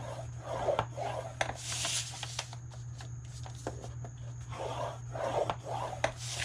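A tool scoring fold lines into paper or card for a roll-top bag craft project, giving repeated close, soft rubbing and rasping strokes in a quiet room.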